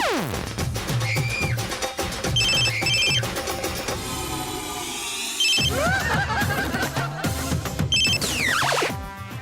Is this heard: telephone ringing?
yes